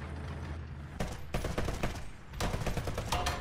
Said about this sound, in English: the machine gun's not even strong enough to break that